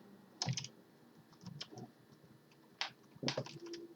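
Keys on a computer keyboard clatter in short, irregular bursts as a login and password are typed. The clicks are close but quiet, with gaps between them.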